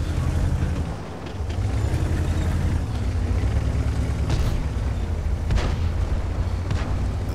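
A tank cannon shot in World of Tanks, a tier 9 German T55a medium tank battle, comes as a deep boom over a constant low engine rumble, with a couple of sharper bursts partway through.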